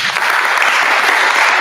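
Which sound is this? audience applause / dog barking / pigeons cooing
audience applause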